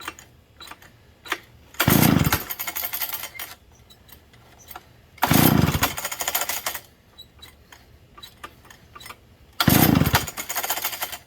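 A flooded McCulloch 91 kart engine fires in three loud, ragged bursts of a few seconds each, sputtering and dying between them, with quieter uneven running in the gaps.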